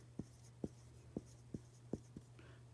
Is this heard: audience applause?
no